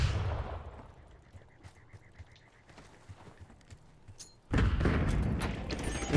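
A flashbang grenade in a Call of Duty match: a sharp burst that fades into quieter scattered game noise, then a loud, sustained roaring blast near the end.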